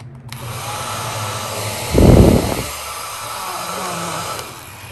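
A hotel-room hair dryer hums steadily throughout, with a brief louder burst of broadband noise around the middle before settling back to a constant drone.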